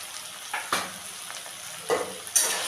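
Chopped onion fries in a pan for ghugni, with a soft sizzle under several distinct scraping stirs of a utensil against the pan, spaced unevenly and close by.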